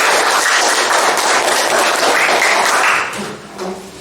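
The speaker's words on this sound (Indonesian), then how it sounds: "Mari kita tepuk tangan dulu." A classroom of students claps together after a classmate finishes a presentation, a loud, dense burst of applause that holds steady for three seconds and then quickly fades.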